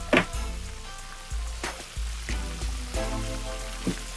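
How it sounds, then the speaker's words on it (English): Whole chub, snapper and grunt fish deep-frying in hot oil, giving a loud, continuous bubbling sizzle with a few sharper pops and crackles and no talk over it. "Now we just let that thing fry."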